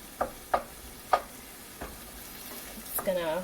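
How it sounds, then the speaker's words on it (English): Onions and Italian sausage frying in a pan: a low steady sizzle with four sharp utensil scrapes spaced apart, then a voice starts at the end. "So I'm just going to cook this down until the onions are more translucent."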